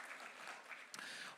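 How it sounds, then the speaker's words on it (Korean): A congregation at a Korean church youth service claps for the students, a faint, brief patter of hands across the room with one sharper clap near the end. "우리 또 이 친구들 수고했는데 박수 한번 칩시다."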